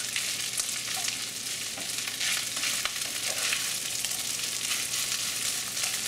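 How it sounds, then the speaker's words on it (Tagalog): Longganisa fried rice cooks in oil and butter in a pan, a steady dense sizzle with faint stirring clicks, continuous and close, no talking. "Lutuin lang natin ito ng ilang minuto hanggang sa mapansin na natin na nahalo na mabuting longganisa dito"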